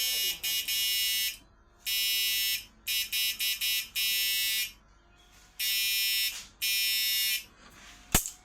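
An electric fishing machine on a low battery charge gives off a loud, harsh electronic buzz in repeated bursts. The bursts vary in length and are split by short gaps, and a sharp click comes near the end.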